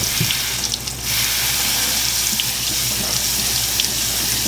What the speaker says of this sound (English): So 2 cups of rice. I'm just gonna rinse it off. Just to make sure the water runs clear